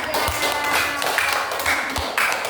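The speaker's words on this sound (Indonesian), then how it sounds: "Tepuk tangan untuk kelompok 3." Classroom applause from pupils for a student group at a primary school, a short, lively patter of clapping with a few sharper hand taps, heard throughout.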